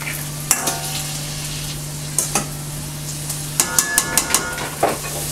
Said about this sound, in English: I want this to simmer all the way down